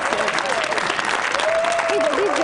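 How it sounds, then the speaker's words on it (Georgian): Audience applause in a late-night television studio, continuous dense clapping throughout with a voice talking over the sustained crowd noise. "ტაში"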